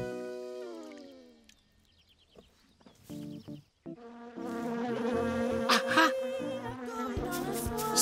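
Buzzing insect drone rises and swells like bees, growing louder and denser after a quieter, scattered start.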